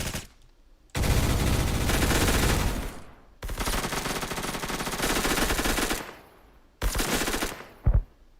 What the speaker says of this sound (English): Nolan is doing great with the P90, getting the wall bangs, playing defensively inside point